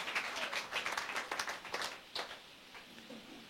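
A church congregation claps during a sermon, a burst of dense, close applause that thins into scattered claps toward the end.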